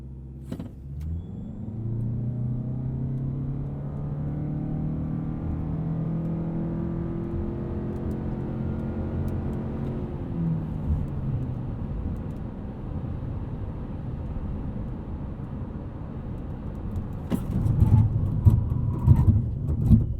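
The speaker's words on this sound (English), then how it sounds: "let's do a 0 to 60 start and a 60 to 0 emergency stop" A 2020 Lexus NX 300h hybrid accelerates from 0 to 60 with a rising electric-motor whine and road noise, then winds down under an emergency stop, ending in rattling cabin noise; no talking.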